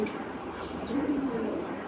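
Black-necked pigeons coo softly at close range, a low throaty murmur rising briefly mid-way over faint background noise.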